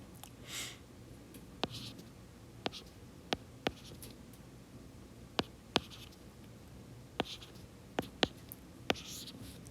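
A pen or pencil writes matrices by hand on paper: soft scratchy strokes broken by a series of sharp taps as marks and numbers are set down, close and quiet, with no speech.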